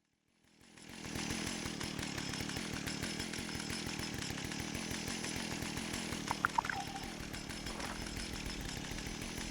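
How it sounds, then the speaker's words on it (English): A flaming chainsaw in a video game revs up after a second of silence and then runs steadily, a continuous buzzing drone at moderate level with a few brief clanks partway through. "it's apparently a flaming chainsaw."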